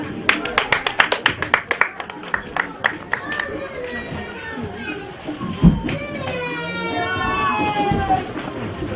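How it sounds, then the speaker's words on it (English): Audience at a babies-and-beyond school graduation bursts into a run of sharp, fast claps for the first few seconds, then settles into crowd chatter and voices with scattered claps. "Clap for them."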